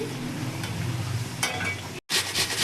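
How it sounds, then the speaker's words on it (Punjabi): Stuffed bitter gourds (karela) sizzle steadily in hot oil in a pan, with occasional scraping and clinks as they are stirred and turned, close up, broken by a brief silent gap before the frying resumes. "ਇਧਰ ਆਪਾਂ ਨੇ ਨਾਲ ਦੀ ਨਾਲ ਕਰੇਲੇ ਵੀ ਦੇਖੀ ਜਾਣੇ ਨੇ ਅਲਟ ਪਲਟ ਕਰੀ ਜਾਣੇ ਆ ਜੀ"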